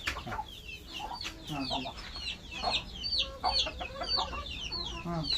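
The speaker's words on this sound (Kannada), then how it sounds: "ಈ ಕಡೆ ಕೋಳಿ ಈ ಕಡೆ ಕೋಳಿ" Several native and Giriraja chickens cluck and chatter continuously close by in a farm shed on a sheep farm, a busy overlapping flock with faint voices in the background.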